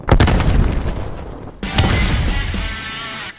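Grenade blasts in Call of Duty Black Ops Cold War on PS4, two loud booming explosions in quick succession, each with a heavy low rumble that trails off.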